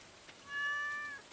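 A single cat gives one clear, drawn-out meow, fairly quiet and close, against a faint room background with no talking.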